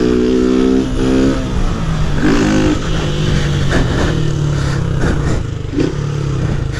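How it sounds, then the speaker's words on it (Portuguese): A Honda Start 160 motorcycle revs hard on a hill, its engine note rising and falling with harmonic bands and several sharp throttle blips, loud and close, over wind and background noise. "Acelera essa moto, Marcos."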